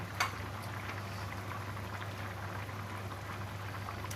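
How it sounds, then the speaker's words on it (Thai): Pumpkin chicken curry simmering in a pot as fish sauce is added, a steady close bubbling hiss with a brief splash near the start, no talking. "เติมน้ำปลาลงไปนะคะ"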